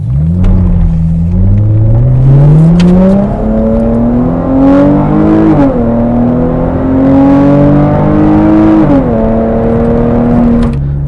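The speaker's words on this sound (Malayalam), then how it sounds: "ഇതിന്റെ 0 to 100 നമുക്കൊന്ന് നോക്കാം." Dodge Challenger sports car accelerating hard from standstill, its loud engine note climbing steadily through the gears with two distinct shift drops, a continuous close roar throughout.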